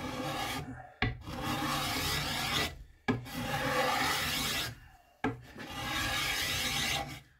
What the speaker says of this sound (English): I'm just going to start with my card scraper, and we're just going to start scraping some layers here